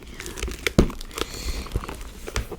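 A small handbag being opened, with a crinkling, rustling rattle of material and a sharp clasp-like click near the middle, close and quiet with no talk.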